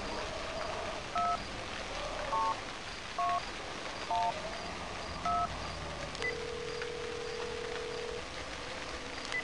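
A telephone keypad in the Cry of Fear video game dials a number: six evenly spaced dual-tone beeps, each brief and clear, followed by a longer steady tone over a quiet ambient hum.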